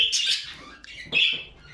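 Bright, high chirps from pet budgerigars come in two quick bursts with a short pause between, close and fairly clear, over a faint background.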